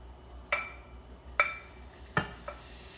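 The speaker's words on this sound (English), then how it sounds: "When I put this into the pan, it should sizzle." Food for Thai green curry chicken sizzles faintly in a hot pan while a utensil scrapes and clinks against it several times at uneven intervals.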